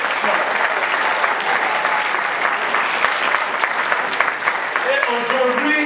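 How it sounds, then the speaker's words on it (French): Strong, dense applause from a crowd honoring award laureates at a prize ceremony, sustained clapping throughout with a brief voice heard near the end. "Je voudrais vous demander d'applaudir très fortement tous ces lauréats qui sont là"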